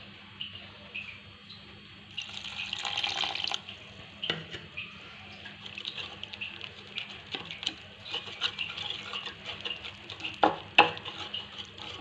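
Water and milk are stirred into jalebi batter in a bowl, producing soft wet sloshing and scraping with scattered clinks of the utensil, moderately close and without talk.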